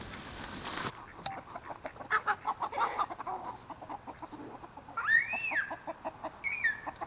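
A farm chicken clucking in short repeated bursts, fairly close, with a few louder squawking calls toward the end and no talk.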